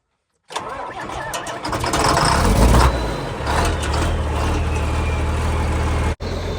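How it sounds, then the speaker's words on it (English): An old diesel tractor engine, already warm, cranks over and catches, then settles into a loud, steady low rumble of idling, with a brief cutout near the end. "Let's do a not so cold start of everybody's favorite new old tractor."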